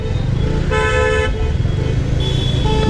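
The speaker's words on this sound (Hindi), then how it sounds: "एनसीआर में एंट्री मारते ही अपना स्वागत पूरे ट्रैफिक के साथ" Heavy road traffic entering the NCR near Pari Chowk on a motorcycle ride, with a constant loud engine and road roar close by and car horns tooting repeatedly in sustained blasts.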